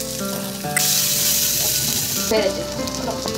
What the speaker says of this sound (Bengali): এবার ঢাকা খুলে পেঁয়াজটা একটু নেড়ে নিয়ে, পেঁয়াজটা একটু লাল লাল হয়ে গেছে